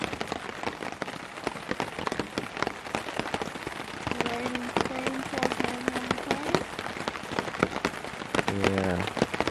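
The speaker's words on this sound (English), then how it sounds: "Look at this rain!" Heavy rain in Hokkaido, Japan drums down in a steady, dense patter on surfaces nearby, with brief voices mixed in partway through.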